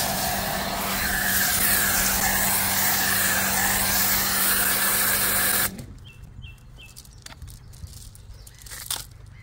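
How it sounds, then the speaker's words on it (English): Green snow foam sprayed from a foam lance onto a multispoke car wheel and under the wheel arch, a loud steady hiss that suddenly cuts off, leaving quiet ticks and faint drips. "We've got our green snow foam here. Apply this underneath the arch and to the wheel."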